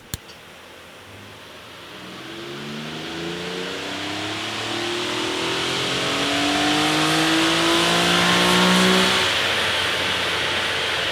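Infiniti G37 fitted with a K&N panel air filter on a dyno, its engine revving hard in a rising pull as the pitch climbs for several seconds, then easing off. Loud and close, with no talk.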